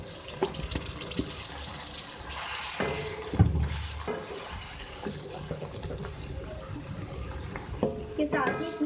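Chicken pieces going into a hot pan for a karahi, a steady watery sizzle and hiss with scattered clinks and pops, sitting under a voice speaking throughout.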